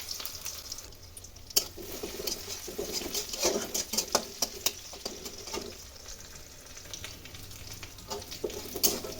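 Chopped onion and garlic frying in mustard oil, a soft continuous pattering sizzle with irregular crackles and spoon scrapes as the mixture is stirred, fairly quiet and close.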